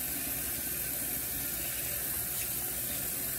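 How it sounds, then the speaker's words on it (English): Warm water runs steadily from a tap onto a U-part wig being wetted at a sink, a soft continuous hiss and splash with no talking. "I'm gonna start with warm water,"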